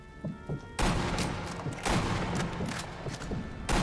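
Sniper Elite V2 rifle shots, heard as sharp, loud booms with rumbling tails, several spaced across the moment, over battlefield ambience.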